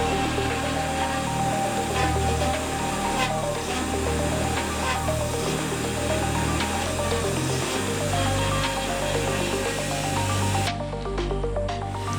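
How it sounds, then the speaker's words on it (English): A CNC machine drilling holes drones steadily with a deep rumble and a grinding whir. The noise cuts back briefly near the end. "The CNC machine then proceeds to drill out 10 holes"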